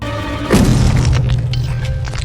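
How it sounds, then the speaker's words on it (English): A mercenary's body crashes onto a bullet-riddled glass floor in an action scene, one heavy booming impact with a cracking burst, then a sustained rumbling low roar. "One of the mercs ends up falling onto the already gun-riddled glass floor"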